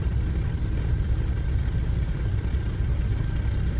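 A Messerschmitt Bf-109K4 fighter's piston engine runs steadily after a cold start, a loud, close, continuous low roar with a rough, throbbing texture and no pauses.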